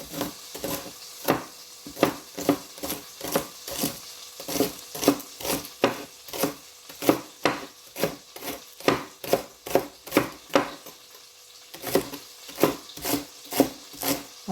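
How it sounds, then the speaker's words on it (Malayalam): A knife chopping spring onions on a board, a steady run of sharp, evenly spaced cuts at a brisk rhythm with brief pauses, close and clear with no talking. "സ്പ്രിങ് ഒനിയൻ കണ്ടോ കണ്ടോ അപ്പോൾ അതൊക്കെ ഒന്ന് കട്ട് ചെയ്ത് വയ്ക്കാം"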